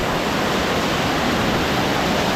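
Rushing water of a mountain stream or waterfall at a trail crossing on the Grandjean to Sawtooth Lake loop, a loud, steady, unbroken broadband roar filling the whole moment with no talk over it.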